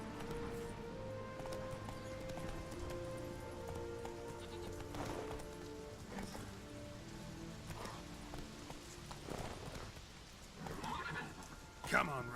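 Roach the horse in The Witcher game world whinnies and trots with steady hoof clops over a bed of music, with rain pattering and brief bursts near the end.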